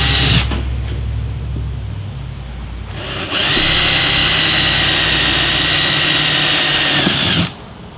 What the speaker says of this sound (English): I'm going to drill a pilot hole first, and then we'll drill our final hole afterwards